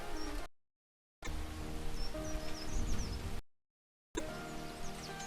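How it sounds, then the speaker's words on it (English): Recorded rain playing softly in the background of a live stream, a faint steady patter broken by two brief dropouts, with light chirping tones drifting over it. "There's going to be Beethoven and rain playing in the background."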